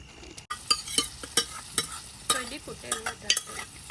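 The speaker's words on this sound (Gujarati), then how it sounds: "તો પાઉંભાજીની ગ્રેવી તૈયાર થાય છે" Pav bhaji gravy cooks in a pan on a stove, with a steady sizzle and frequent scraping strokes of a spoon stirring it, close and fairly loud.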